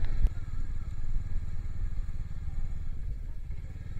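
A motorbike or scooter engine drones close by, continuous and fairly loud, with a sharp click near the start, on a road beside the Lamahatta pine forest.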